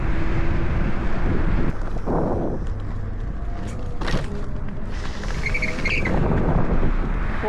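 Steady, loud wind rush buffets the microphone while a Teverun 7260R electric scooter with an upgraded V4 kit rides fast, with a few brief creaks and clicks over the constant roar.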